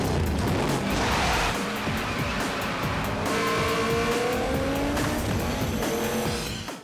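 A Dodge Charger muscle car built with 900 horsepower roars loudly in a film scene, with tires squealing and skidding and the engine note rising and falling throughout.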